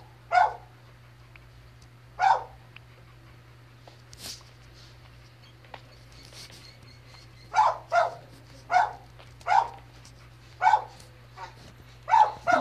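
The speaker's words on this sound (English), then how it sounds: "Dogs are still not quiet in the other house" Dogs bark in a neighbouring house, heard as distinct muffled barks: two isolated ones early, then a rapid run of about eight in the last five seconds, over a steady low hum.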